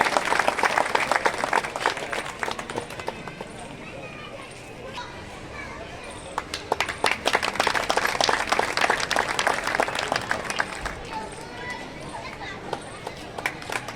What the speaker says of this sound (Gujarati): આપણે એમના તાળીઓના ગડગડાટથી વધાવી રહીશું